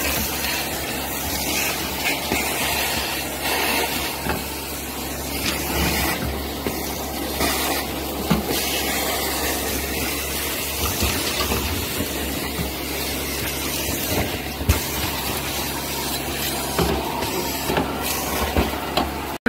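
A household hoover sucks debris out of a snake tank, giving a steady, loud whooshing drone with an underlying hum that runs without a break, and no one speaks over it.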